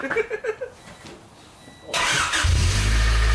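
A Nissan Z car engine with a new exhaust cranks and fires up, settling into a deep, loud rumbling idle from a throaty exhaust after a few quiet knocks.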